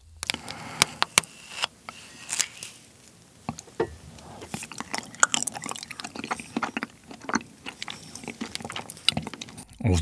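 A soft, sticky frozen hongsi persimmon is eaten close to the mic, giving wet smacking, sticky chewing and sharp little clicks that repeat unevenly for about ten seconds with no talking.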